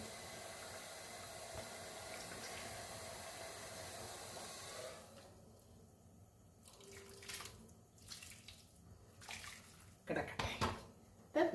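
Water pours steadily with a broad rushing hiss into a pot of chicken, then stops, followed by a few clanks and splashes of the pot being handled.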